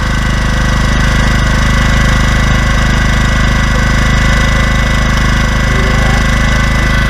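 A car engine runs loud and close, a steady, unbroken rumble with a rough, knocking idle throughout.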